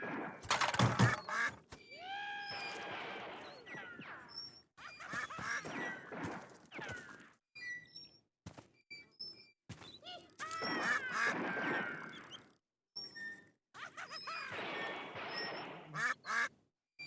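Several ducks quack loudly and repeatedly in bursts of raspy, honking calls. The bursts are separated by brief pauses and overlap one another, close and clear throughout.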